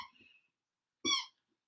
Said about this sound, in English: My dog has decided that this is a good time to start using the squeaky toy.